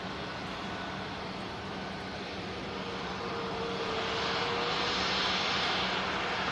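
An aircraft engine hums and roars at Manchester Airport, a steady distant drone that swells gradually louder toward the end, with a faint tonal whine running through it and no voices.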